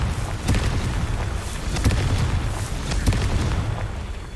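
Confringo blasting spell from Hogwarts Legacy, a run of loud booming explosion bursts repeating every second or so over a dense rumbling low background, with no talking.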